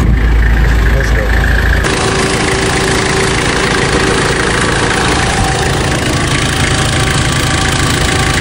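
Nissan Terrano 4x4 diesel engine idling steadily, a loud continuous low rumble with a faint knocking texture that holds throughout, with no talk over it.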